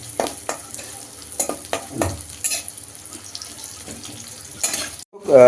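Dried fish is broken up and fried in oil, a soft sizzle under irregular scraping and knocking strokes in the pan, ending with a sudden louder burst.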